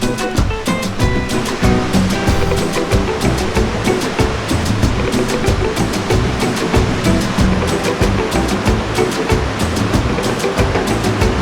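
A steady, dense rush of water runs throughout, loud and continuous, like a river flowing close by with no voices.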